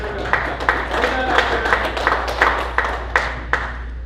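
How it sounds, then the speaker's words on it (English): Audience members at a summer golf association meeting clap in a sparse, rhythmic round of applause for a man named Danny, with a voice talking over the claps. "Give Danny a round of applause"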